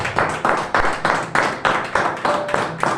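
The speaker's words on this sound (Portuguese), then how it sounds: "Que o nome de Jesus possa ser honrado com as palmas" Rhythmic group hand clapping from a church congregation, loud and steady with a regular beat of roughly three claps per second and no talk over it.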